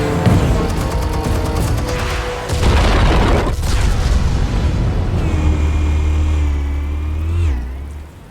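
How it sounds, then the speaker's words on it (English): Explosives go off in a Batman video game, a loud rumbling blast that swells over a noisy scene and trails off into a low engine-like roar and whine. "Explosives armed. Fire when ready."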